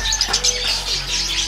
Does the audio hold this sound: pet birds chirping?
yes